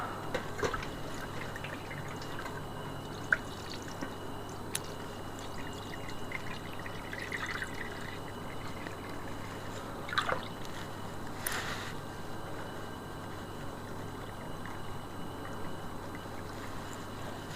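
Homemade unripe grape juice drips and trickles through a mesh strainer in a steady, quiet patter, with a few brief louder splashes and no talking.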